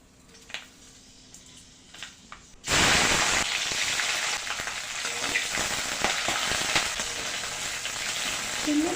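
Fenugreek seeds and red chillies hit hot oil with a sudden loud burst of sizzling and frying that stays dense and steady to the end, after a few seconds of quiet kitchen clatter, for a ridge gourd and tomato chutney.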